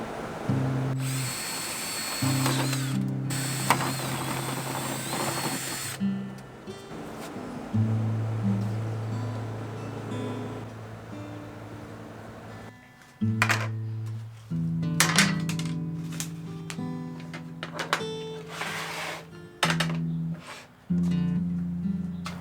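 A power drill fitted with a 7/8 inch bit bores a hole for 3/4 inch PVC pipe in a rain barrel, sounding in several separate bursts of whining and grinding with quiet gaps between.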